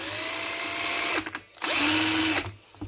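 A cordless drill spins a mini water and wind turbine alternator in two bursts, its motor whine rising and holding, with a short pause between runs.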